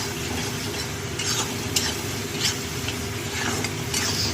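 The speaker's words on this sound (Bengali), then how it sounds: "ভালো করে তেল বেরোন না অবধি কষাতে থাকবো" Spice paste fries in oil for a snakehead fish curry with bottle gourd, a continuous close sizzle with repeated scraping strokes of a spatula stirring it.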